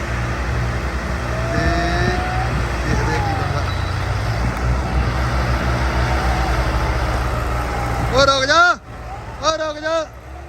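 John Deere 65 tractors rumble and rev as they start off in an outdoor plough contest, a loud steady engine drone under constant talk, with shouting voices near the end.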